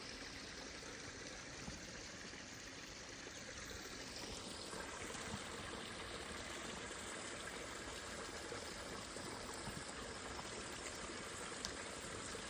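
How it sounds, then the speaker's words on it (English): A small mountain stream in Sequoia National Park flows steadily, a continuous bright babble and trickle of water close by, with no voices. "little stream feeding the other river area."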